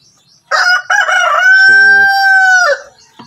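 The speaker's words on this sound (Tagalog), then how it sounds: "Okay, so yan yung ating Rhode Island Red." A Rhode Island Red chicken lets out one loud, drawn-out crow close by, the call rising and holding steady for about two seconds before breaking off, with a brief lower cluck from another bird partway through.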